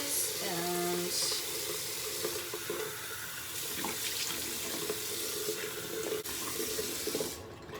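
A tap runs continuously into a sink while a face cloth is rinsed, a steady close splashing hiss lasting several seconds, with slight changes as the water hits different surfaces.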